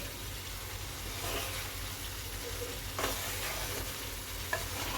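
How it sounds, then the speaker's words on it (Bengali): A small, reduced amount of spice paste fries in a pan for a papaya, squash and potato curry, with a low continuous sizzle broken by a few brief scraping stirs; quiet, no voices. "এবার আমি মশলাটাকে ভালো করে কষিয়ে নিচ্ছি"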